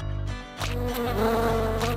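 A wasp buzzes with a steady, droning whine that swells slightly after a brief dip, close and continuous for about two seconds, with no voices.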